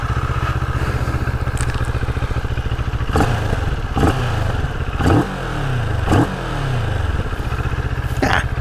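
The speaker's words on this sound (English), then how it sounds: "let you listen to that Chinese parallel twin" A Moto Morini Seiemmezzo STR motorcycle with a Chinese-built parallel-twin engine idles with a steady, throbbing, lumpy beat, then gets several sharp throttle blips that rev up and fall back. Loud and close, with no voices.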